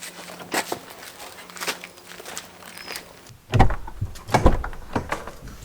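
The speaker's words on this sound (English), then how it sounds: "that door already makes a much nicer sound" Some shuffling and rustling, then a solid thud as the door of a Toyota Land Cruiser 60 series closes, followed by another knock shortly after, close by.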